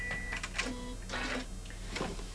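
A sewing machine stitches over uneven, heavy areas of a bag, giving short quiet mechanical whirring bursts separated by brief pauses.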